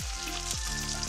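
Vegetables including mushrooms sizzle and crackle loudly in a hot pan of Thai drunken noodles seasoned with fish sauce, a dense continuous frying hiss with a few soft stirring scrapes and no talking.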